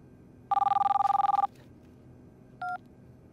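A telephone rings once in a rapid trilling burst, followed a moment later by a short single electronic tone, fairly clear against a quiet background.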